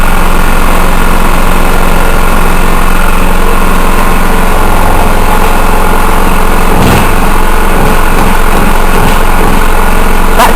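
A generator engine runs steadily throughout at a constant, loud, droning pitch, with a light-engine hum and faint vibration, no talking, and a brief disturbance partway through.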